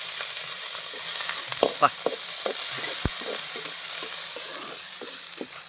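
Chopped chayote pieces frying and spattering in a pan, a steady sizzle broken by sharp pops and crackles, with a brief spoken syllable.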